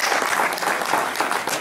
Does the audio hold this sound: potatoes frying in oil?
no